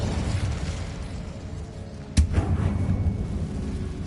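Incendio fire spell cast in Hogwarts Legacy, a single sudden whooshing burst that flares up sharply mid-clip and fades over a steady low ambient hum.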